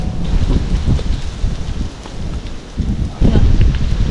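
Gusty wind buffets the microphone, a steady roar that surges louder near the end.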